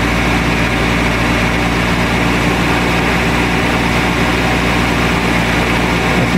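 A Renault Trafic van's engine runs steadily with a quiet exhaust, a loud, even low drone and hum that holds constant from start to finish without a break.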